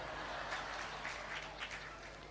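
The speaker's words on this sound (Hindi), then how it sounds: "बजाओ अब तालियां जोर से" Audience at a parents' ceremony event in Katni clapping steadily and loudly for the whole moment, a dense continuous wash of applause with no talk over it.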